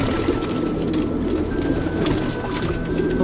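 Kulbacki pigeons coo softly in a steady, continuous murmur while pecking at vegetables, with low rumbling tones running under a dense background of bird noise throughout.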